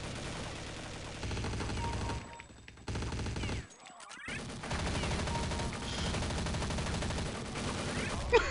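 SMG gunfire rattles in rapid automatic bursts in Counter Strike: Condition Zero, dense and continuous with a brief pause in the middle, over game ambience.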